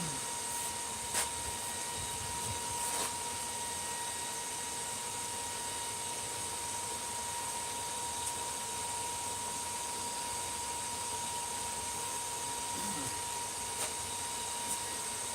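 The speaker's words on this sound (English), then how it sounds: "I got the hair dryer back in the corner that has a lot of noise and stuff too." A hair dryer drones steadily in the background, a constant airy whir with a faint high tone running underneath.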